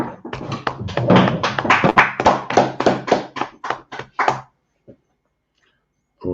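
A group of people clapping hands in a steady run of sharp claps for about four seconds, close and fairly loud, then stopping with a couple of stray claps after.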